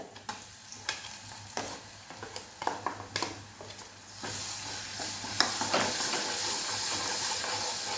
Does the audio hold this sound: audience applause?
no